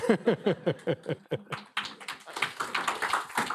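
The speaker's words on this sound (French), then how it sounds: "On applaudit Julien." A few people clap in a steady, close rhythm at a French conference presenting survey results, then the claps blur into a looser patter of applause mixed with murmuring voices.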